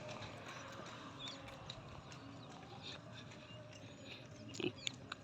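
Hooves clop from a bullock cart with tyres in a village, a steady soft plodding under a low rumble of wheels and outdoor ambience, with a few sharper knocks near the end.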